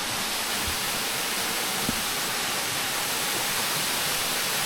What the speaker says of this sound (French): On arrive du coup à la 2e cascade.